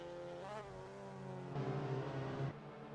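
A Mazda MX5 race car engine drones and rises in pitch as it accelerates on a racing circuit at Okayama, heard at moderate distance with a gear change and renewed surge.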